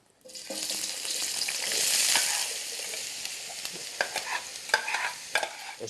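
Onion and garlic frying in oil in a pan make a loud, steady hiss that swells and then eases, while stirring adds a few sharp scrapes and taps near the end.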